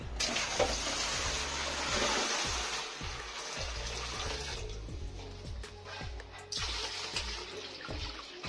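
Water is fetched for kneading clay for a Ganpati idol, a faint, steady rush of running water with a regular ticking beneath it.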